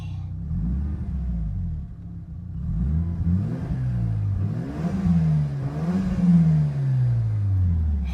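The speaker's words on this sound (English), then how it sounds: "if you're wondering why I'm test driving a 1993 Mazda RX-7" A 1993 Mazda RX-7 engine revs and accelerates through repeated rising sweeps, loud and close, with gear changes giving a wavy, climbing pattern.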